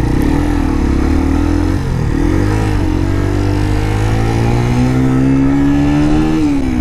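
A 2014 Keeway RKV 125 motorcycle accelerates along a road, its small engine droning steadily and rising in pitch through the gears, loud and close with constant wind noise.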